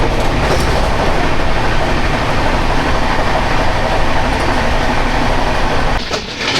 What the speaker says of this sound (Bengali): ট্রেনটা হাওড়া থেকে কিন্তু স্লো চলছে খুব